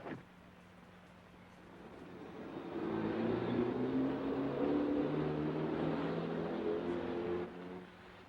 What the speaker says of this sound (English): It's a car coming.